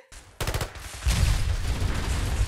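Rapid burst fire from Halo-style guns in the video game Fallout 4, with a quick rattling volley followed by a louder, sustained spray of gunfire and rumbling impacts.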